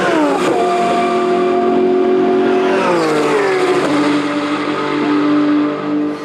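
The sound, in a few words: Porsche race car engine at Magny-Cours circuit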